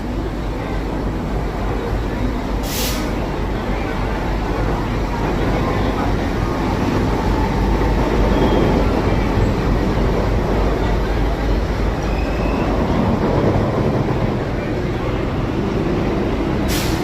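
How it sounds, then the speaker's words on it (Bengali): Doon Express 13009 rolling into the platform at Howrah station at dawn, a steady loud rumble of the approaching train with a brief horn-like tone early on, under ambient platform noise. "ঢুকছে আমাদের ট্রেন"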